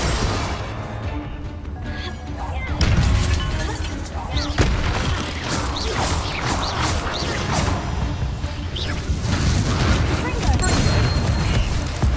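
Bombarda and Confringo spell blasts in the Hogwarts Legacy video game, heard as booming explosions and crashing impacts over a rumbling game soundscape. A voice shouts over the blasts.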